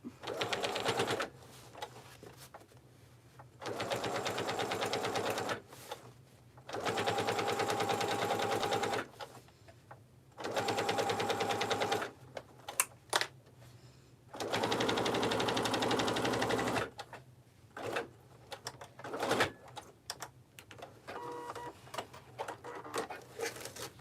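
Bursts of rapid mechanical stitching from a sewing machine, running in several stop-start stretches with short pauses between, close by.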